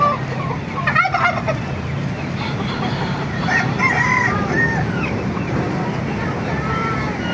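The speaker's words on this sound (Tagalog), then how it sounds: "Malaki ng mga pabo rito." Turkeys gobble at an animal market in Baliuag, Bulacan, with chickens and ducks nearby: repeated warbling gobbles and crowing-like calls over a busy, crowded background murmur of people talking.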